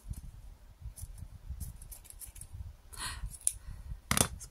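A few quiet snips of scissors cutting ribbon, brief sharp clicks scattered over soft handling noise, close and faint.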